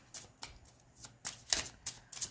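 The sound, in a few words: shuffling tarot cards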